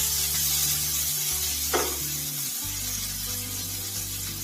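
Onions frying in oil in a pan: a steady, close hiss and sizzle that holds evenly throughout, with faint stirring scrapes and no talking.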